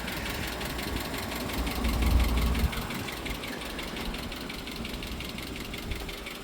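A Vauxhall Corsa idles nearby with a slightly tappy engine that needs timing chain work, a steady low rumble with a fast, even ticking layered over it, briefly swelling in loudness near the start.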